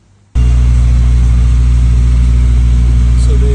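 A BMW 420i B48 engine with a stuck-exhaust-camshaft Vanos fault starts abruptly after a moment of near silence during a camshaft test, then holds a loud, steady idle with a low throbbing rumble.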